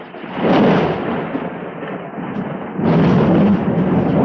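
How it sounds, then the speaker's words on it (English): Loud, sustained rumbling thunder, one long rolling peal that swells again near the end, with no voices over it. "That's the thunder, y'all."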